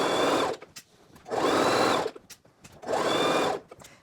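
A sewing machine stitches fabric around the corner of a skirt in three steady bursts of about a second each, separated by short pauses while the fabric is turned, close and fairly loud.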